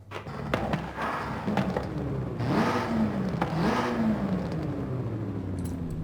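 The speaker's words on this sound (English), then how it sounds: "What about the race exhaust?" A Volkswagen Golf R fitted with a race exhaust in Forza Horizon 5 blips and revs repeatedly, with sharp rising and falling engine pulls and crackles, loud and close, no talking.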